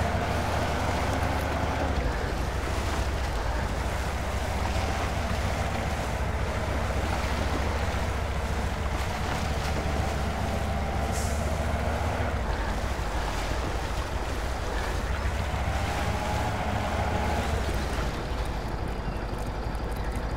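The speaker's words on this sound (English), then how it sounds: "the exhaust just slightly underwater. It's kind of like bubbling away" A truck's exhaust pipe sits just below the water in Spintires: MudRunner, giving off a steady, continuous bubbling and gurgling wash with no talking over it.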